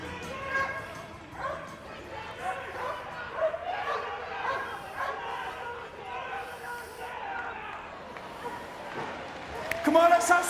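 A firearms support dog barks and yips in the Crufts arena during a police demonstration, its calls repeating amid a loud crowd and ongoing commentary.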